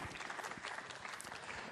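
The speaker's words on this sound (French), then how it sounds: "On les applaudit bien fort." A hall audience applauds award winners at a French hydrogen trophy ceremony, a short burst of even, moderately distant clapping.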